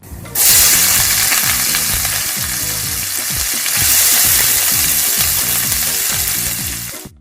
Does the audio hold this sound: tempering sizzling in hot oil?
yes